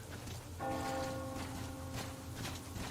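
A single church bell in the video game Metro Exodus strikes and hums with a lingering resonant tone, fairly quiet, over soft pattering ambience.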